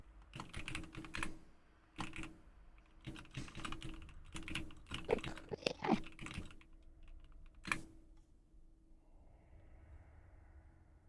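Typing on a computer keyboard: bursts of quick clicky keystrokes in irregular clusters, close and crisp, pausing between runs and then falling quiet.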